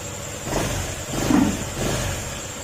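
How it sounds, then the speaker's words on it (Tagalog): A Honda ADV150 scooter engine warms up after an overhaul, a steady close idle with slight rises and dips in pitch throughout. "pinapainit muna natin para mag-circulate yung kulan"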